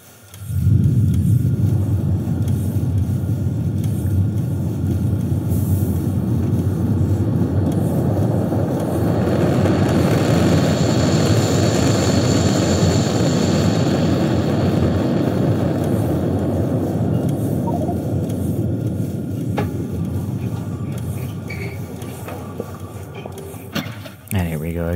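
Rocket launch in the game Factorio, a loud sustained roaring rumble that holds steady for over twenty seconds before easing slightly, with a voice talking over it.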